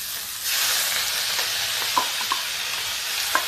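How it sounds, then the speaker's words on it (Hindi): Lightly boiled ridge gourd chikla starts frying in a hot pan, a steady loud sizzle that kicks in after a brief pause, with a few soft stirring clinks over it. "ये तरोई की छिकला जो मैंने हल्का बॉईल करके रखा था, इसको भूनते हैं।"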